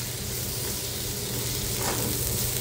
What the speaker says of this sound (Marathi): आता हे सगळं आपण परतून घेऊ व्यवस्थित।